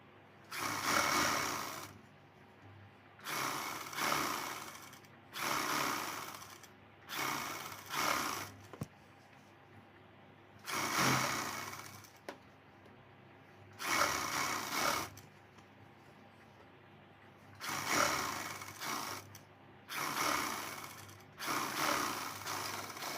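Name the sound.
sewing machine stitching a waistband strip onto a blouse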